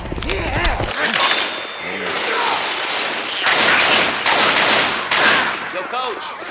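Rapid gunfire from Left 4 Dead 2 rattles in repeated bursts of automatic fire with sharp single shots in between, loud and close, with brief pauses between volleys.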